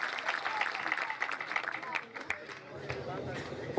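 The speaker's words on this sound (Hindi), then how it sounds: "जोरदार तालियां बजा दीजिए नरेंद्र बंजारा के लिए" At a Hindi kavi sammelan of heroic verse, an audience gives a burst of lively applause for the poet Narendra Banjara, dense clapping with crowd noise and voices mixed in throughout.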